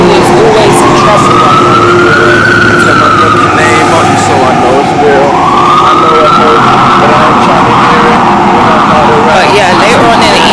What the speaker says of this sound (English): One thing I noticed about New York, there's gonna be some sirens.